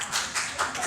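A comedy show audience in Sacramento claps in short, uneven bursts, a brief scatter of hand claps rising and falling over about a second.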